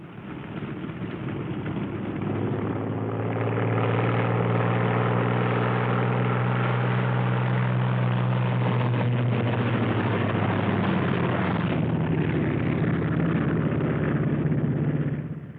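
World War II fighter aircraft engines drone as a pair of planes taxis out, a loud, steady, low piston roar that swells early and holds near for about fifteen seconds before fading at the end.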